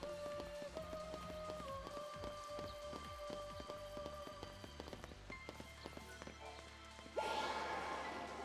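Rain falls in Final Fantasy XIII, scattered drops and pattering over layered music tones, with sharp clicks and a louder burst of hissing near the end.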